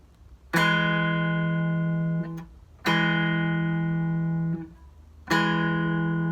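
Three plucked guitar notes, each a pick-and-middle-finger pinch of the fourth and third strings, ringing out for about two seconds before being damped, played alone and clearly.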